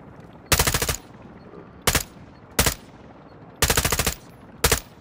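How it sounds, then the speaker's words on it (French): Bursts of automatic gunfire in the video game Call of Duty DMZ, several loud volleys of rapid shots separated by short pauses, some longer and some brief, with no talk over them. "Moi je tire dessus."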